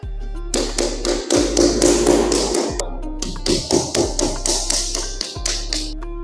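A hammer taps across a house floor during a pre-purchase inspection, checking for hollow spots. Two quick bursts of sharp, close, rapid knocks are split by brief pauses, with slight ringing between strikes.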